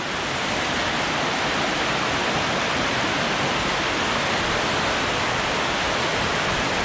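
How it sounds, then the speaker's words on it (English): A waterfall on a creek near a hydro dam roars in a dense, steady wash of white water, loud and close, with no voices over it. "Oh, it's definitely a waterfall."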